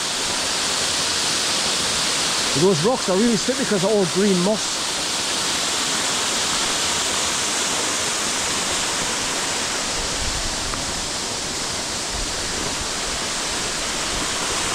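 Waterfall in Craik Forest on a hot sunny day, a loud, steady rushing roar of falling water throughout, with a voice talking briefly early on over the noise.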